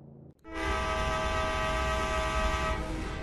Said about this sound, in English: Not again that train.